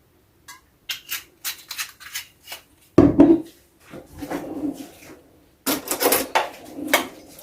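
A spoon stirs a duck marinade of fresh sliced ginger and olive oil in a bowl, giving soft intermittent scraping and wet clicking strokes in short bursts, close and fairly quiet.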